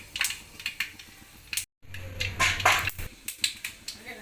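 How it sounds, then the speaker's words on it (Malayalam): Mustard seeds crackle and pop in hot coconut oil in a home kitchen while pickle is being made, giving sharp, irregular snaps close by, with one brief gap. "കടുക് പൊട്ടട്ടെ."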